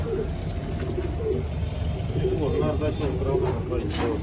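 Soft coos from Sialkoti pigeons repeat in a low, rolling rhythm over a steady background hum, with a voice speaking intermittently nearby.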